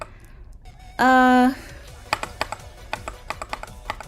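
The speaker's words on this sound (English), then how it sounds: "this loud clicking and or clacking will be good ASMR" Loud keyboard clacking during a live stream, a brief loud tone first, then a run of sharp, close keystroke clicks in an irregular rhythm.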